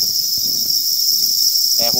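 Crickets on a farm chirp in a steady, dense chorus of high-pitched trilling throughout, with a few faint low knocks and a brief louder burst near the end.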